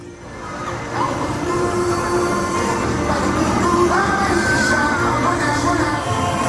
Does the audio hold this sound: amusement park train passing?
yes